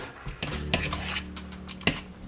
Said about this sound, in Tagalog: break the butter a little bit